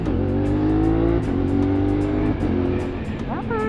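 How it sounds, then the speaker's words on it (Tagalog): An inline-four motorcycle engine roars loudly nearby at high revs, pitch climbing and dropping through quick-shifter gear shifts, with a brief rising whine at the end. "parang may inline 4 sa likod ko eh"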